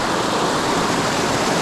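Rushing river water in the Adirondacks, a steady broadband roar of whitewater flowing near a rocky bend, loud and continuous with no talking.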